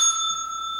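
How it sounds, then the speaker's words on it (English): A notification bell sound effect: one bright ring of a small bicycle-style bell, close and alone, ringing on and fading slowly. "Then ring the notification bell."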